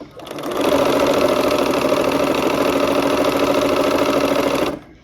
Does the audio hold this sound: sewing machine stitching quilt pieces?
yes